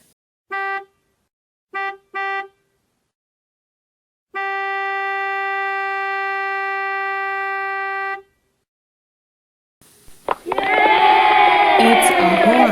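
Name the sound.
horn sounding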